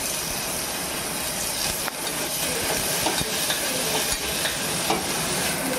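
Peas and curry leaves sizzle in a hot pan, a loud, steady frying hiss close up with occasional clicks and stirring scrapes, no talking.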